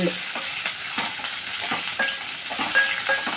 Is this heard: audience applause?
no